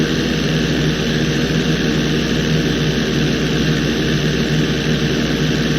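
In the GTA V flight school, an airplane engine drones with a constant loud roar that holds an unbroken level throughout, with no voices over it.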